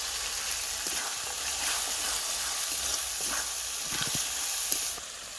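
A ginger, garlic and cashew paste sizzles and hisses steadily in a hot pan while being stirred, with a broad continuous frying noise and a few soft scraping clicks.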